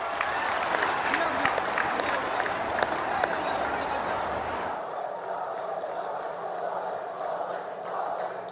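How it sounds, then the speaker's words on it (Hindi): Audience at a prime ministerial event in Assam clapping in a dense, sustained wash of applause that fades into a softer crowd murmur partway through. "हो जाए ताली आज आपके नाम पर"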